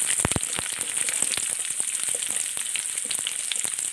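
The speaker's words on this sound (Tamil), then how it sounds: "பெரிய வெங்காயம் கட் பண்ணிட்டு வெங்காயம் மட்டும் வதக்கிடுவாங்க" Onion sizzling in a hot pan while being sautéed for pudina chutney, a steady close frying hiss with a few sharper crackles near the start and no voices.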